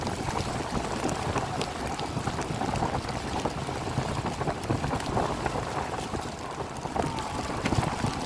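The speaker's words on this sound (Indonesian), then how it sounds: "Lihat suasana Kota Takengon hari ini yang diguyur hujan dan menyebabkan beberapa daerah tergenang air atau banjir." Steady rain pours over a flooded street in Takengon, a dense, continuous hiss of drops hitting standing water with splashing, like passing traffic, spread evenly over the full length with no talking.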